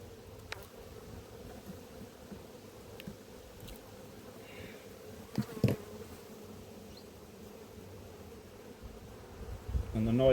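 Honeybees buzzing around a hive in an apiary, a faint, continuous low drone with a few louder passes as individual bees fly close.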